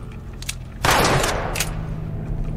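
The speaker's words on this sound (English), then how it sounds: "Who's shooting me?" A burst of gunfire from The Last of Us Remastered erupts suddenly and stays loud, with a dense rattling roar and a few sharper shots afterward.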